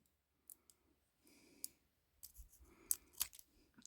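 Scissors snipping Kapton tape at close range, a few quiet, crisp cuts and clicks spaced out over a few seconds in a quiet room.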